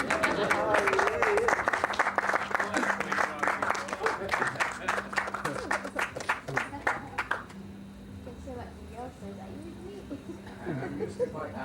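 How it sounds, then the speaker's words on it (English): An audience claps at a live talk, a dense burst of hand claps that thins out and fades after several seconds, followed by a speaking voice. "you can clap and things like that"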